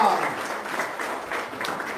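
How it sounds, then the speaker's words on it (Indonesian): Audience applause at a motivational talk in Indonesia, a steady diffuse patter of clapping with crowd noise throughout, fairly loud and continuous, with a voice briefly heard at the start. "Tepuk tangan dong."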